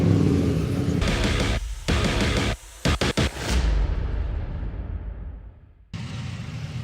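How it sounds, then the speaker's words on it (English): Bernie's V8s and Historic Outlaws racing cars roar around the Thruxton circuit, loud engine noise with sharp cuts and bursts as cars pass close, then fading away before another car roars in near. "the roar because we've got the Bernie's V8s and Historic Outlaws making their way out onto the track"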